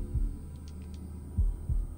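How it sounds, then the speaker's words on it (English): Heartbeat effect in the horror video game Man of Medan: deep, muffled thumps in a slow rhythm, about three beats over a low hum, close and alone with no talking. "Heartbeat."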